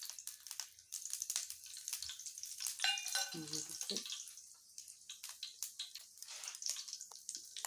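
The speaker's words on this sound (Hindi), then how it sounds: "ये तड़का लग रहा है" Oil with five-spice seeds sizzles and crackles in a pan for a tadka over an omelette, a steady frying hiss with brief stirring clatter and a spoken voice at times.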